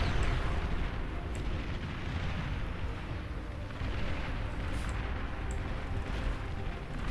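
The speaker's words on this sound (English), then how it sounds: "Rocket spiders up on the hills, launching down their rockets to try and get some effect done." Rocket spiders in the strategy game Beyond All Reason fire rockets down from the hills, a continuous dense rumble of launches and distant explosions with a few brief sharper cracks, steady and fairly loud throughout, no voices.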